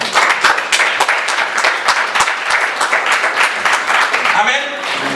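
Church congregation at a Sunday worship service applauding loudly and continuously, dense close clapping filling the room for several seconds, with a few voices faintly mixed in.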